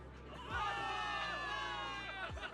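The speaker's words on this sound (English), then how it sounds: "Cheers rise up from the gathered soldiers." Soldiers in the video game Zenless Zone Zero cheer together, a sustained crowd roar of many voices with shouts rising over it for a couple of seconds.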